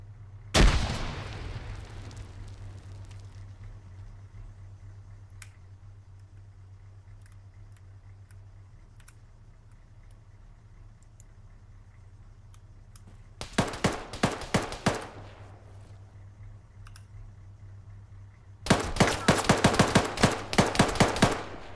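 Gunfire at a training session comes in two dense, rapid bursts late on, loud and close, after a long quiet stretch with a single sharp report near the start.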